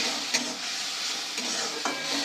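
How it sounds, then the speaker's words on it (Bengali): Spice masala for a bata fish curry, with water just added, bubbles and sizzles steadily in the pan while a spatula scrapes and stirs in a few sharp strokes. "জল দিয়েও আবার কষাবো, এটা শুকনো হওয়া পর্যন্ত"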